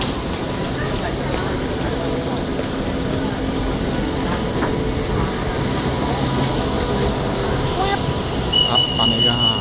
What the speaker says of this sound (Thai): เข้ามาในสถานี ไอ้ในขบวนรถไฟแล้วฮะ